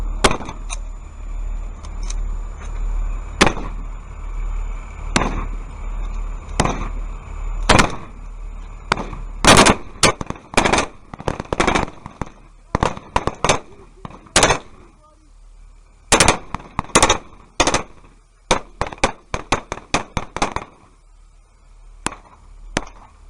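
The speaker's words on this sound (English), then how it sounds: "We're under fire." War-movie gunfire: scattered sharp shots at first, then dense rapid bursts of cracking rounds, loud and close, with brief gaps between volleys.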